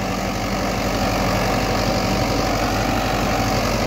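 A Mahindra 585 tractor engine runs steadily at a low, even rumble while working a sugarcane field, loud and constant throughout with no talking.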